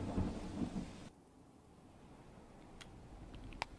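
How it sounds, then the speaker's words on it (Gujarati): Heavy rain from Cyclone Biparjoy hisses steadily over the area, with a deep rumble of thunder at first, then quieter steady rainfall and a few sharp cracks and drips. "કારણ કે વરસાદની જે તીવ્રતા છે તે ભલે બદલાતી રહે છે પરંતુ સતત વરસાદ ચાલુ"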